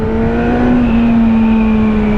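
Loud, steady engine drone from a 2017 Kawasaki Z1000SX motorcycle, a sustained tone with slight pitch drift as it revs, close and continuous with no pauses.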